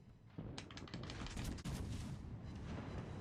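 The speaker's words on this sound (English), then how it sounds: "As soon as he gets his guns towards me, we're going to shoot" Naval guns fire in World of Warships Legends, a heavy salvo of booming, crackling shots that swells and rumbles over a few seconds with no talk.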